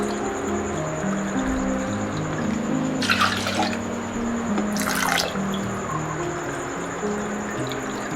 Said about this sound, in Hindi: 3 कप पानी डाल दिए।